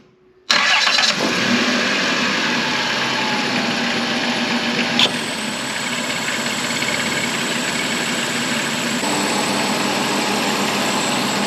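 A Chrysler car engine cranks and catches during an air conditioning repair, then settles into a steady loud idle with a high whine running over it, close up and without talk.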